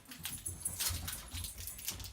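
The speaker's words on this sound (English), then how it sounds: "And there's a crazy dog." A dog in the background of an indoor room makes soft scuffling, pattering and faint whimpering noises, fairly quiet and irregular.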